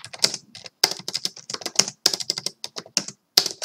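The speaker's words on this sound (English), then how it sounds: "So I'm gonna type in the chat." Rapid typing on a computer keyboard during an online bullet chess livestream, with bursts of close, crisp key clicks in quick irregular runs and brief pauses between them.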